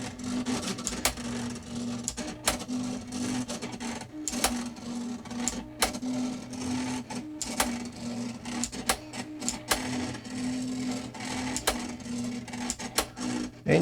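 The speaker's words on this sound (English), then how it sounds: "you'll see every once in a while it will pause as it's waiting for a carriage return from the plotter" A TRS multi-pen plotter draws lines with a steady mechanical whir and rhythmic clicking of the pen carriage, broken by brief pauses, close and fairly loud.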